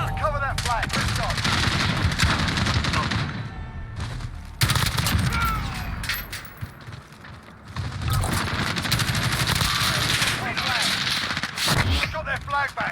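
Gunfire in a multiplayer video game flag match, continuous bursts of rapid automatic shots with explosions mixed in, loud and close, with game voice callouts heard over the shooting.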